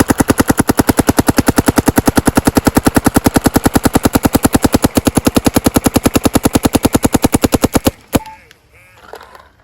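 A DLX Luxe X paintball marker fires a long, fast, perfectly even burst of loud pops for about eight seconds until empty, then stops with a final clack and faint handling noise.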